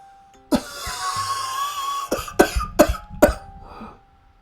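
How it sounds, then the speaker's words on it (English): A series of harsh coughs in the video game Andy and Leyley, one then a cluster of three or four in quick succession, close and loud over a faint hum. "I'll believe the coughing sounds, really."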